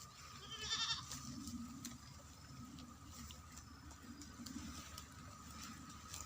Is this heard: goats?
yes